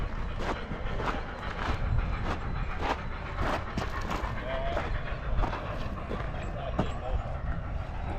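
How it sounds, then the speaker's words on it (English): A large model train set runs inside a museum, giving off a steady rhythmic clicking and rumbling with faint voices in the background. "check this out, big old train set."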